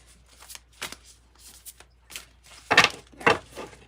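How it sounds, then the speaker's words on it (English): Tarot cards shuffled by hand in quick, soft riffling bursts, mostly quiet and close, with two louder, denser shuffles near the end and no talking. "So I have to reshuffle."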